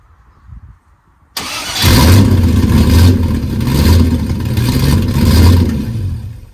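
An MGB GT V8 engine cranks and catches after a quiet moment, then settles into a loud, steady rumbling idle with a few pulsing swells, close up with no talking.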